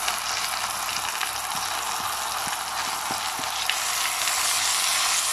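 Chicken thighs and vegetables frying in a pan for chicken in sauce, a dense continuous sizzle with occasional soft knocks from stirring, close and steady.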